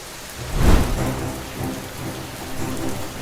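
Storm sound effect from an audio drama: steady rain pattering over a low rumble of thunder that swells early on and then settles into continuous rainfall. No one speaks.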